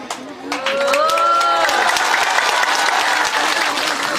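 After a brief voice, a large crowd at an Islamic sermon gathering in North Halmahera bursts into loud, sustained applause with scattered cheers that keeps going to the end.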